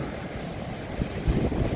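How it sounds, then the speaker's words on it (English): Powerful Gulf waves surge and crash in a strong northwest wind, a continuous roar of surf and wind rumble with heavier breaking swells near the end. "we are getting some amazing wave action on the Gulf right now"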